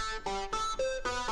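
A custom patch on a Yamaha CS1X synthesizer plays a short run of bright, harmonically rich tones. It steps through about five distinct notes in quick succession, clean and close, with no talk.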